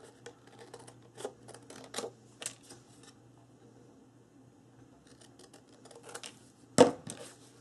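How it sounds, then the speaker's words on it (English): Big Tim Holtz scissors snip through paper in quiet, irregular bursts of crisp cuts, separated by a pause, ending with one sharper, louder snip. "I'm going to use my big Tim Holtz scissors and just cut this out."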